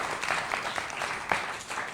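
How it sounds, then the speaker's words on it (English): Audience applause at a show, a steady spread of clapping hands heard at moderate distance for the whole span, with no voices over it. "Give yourselves a round of applause, everybody."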